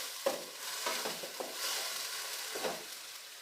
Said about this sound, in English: Add oil and keep the flame on medium now. Saute till it get golden brown in color.